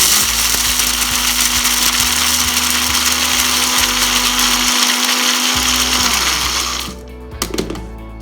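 A kitchen blender grinds rasam spices into a fine powder, its motor roaring loud and steady for about seven seconds before cutting off, followed by a few light rattles.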